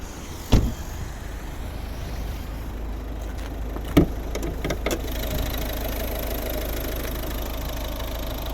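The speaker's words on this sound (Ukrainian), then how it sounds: "ось двигун, робота двигуна" A 2011 Volvo V50 1.6 diesel engine idles steadily with a low, slightly knocking rumble, broken by a couple of sharp clicks or thumps nearby.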